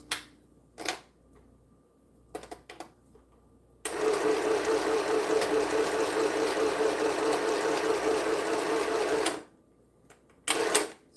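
Sewing machine stitching quilt pieces together, a steady close whirring run of about five and a half seconds, preceded by a few soft handling clicks and taps and followed by another short clatter.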